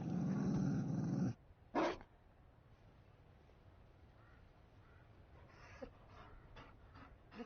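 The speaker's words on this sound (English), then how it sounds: "You found a dog?" A Mabari war dog in the Dragon Age: Inquisition video game lets out a loud rough growl and a quick second bark-like snarl, then only faint panting and small snuffles continue.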